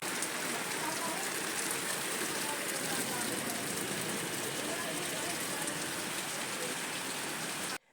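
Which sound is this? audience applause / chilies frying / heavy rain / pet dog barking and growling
heavy rain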